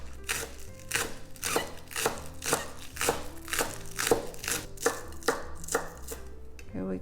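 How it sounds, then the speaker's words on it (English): A knife thinly slices the green parts of scallions on a cutting board, about a dozen quick crisp strikes in steady succession, close and clear with no talking. "We're going to cut it in half and just use the green part only and thinly slice it."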